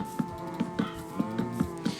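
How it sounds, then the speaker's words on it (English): Cattle on a blocky farm in a game give low, sustained moos over a droning tone, with soft regular clicks repeating about every fifth of a second, fairly quiet and with no talking. "you gotta listen to the cows every day"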